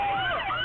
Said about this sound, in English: Will somebody turn that goddamn siren off